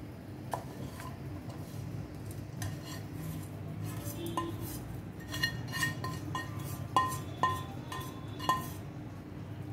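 Masala stirred into coconut rice in a metal pot, with a spoon scraping and clinking against the pot in irregular taps over a low steady background.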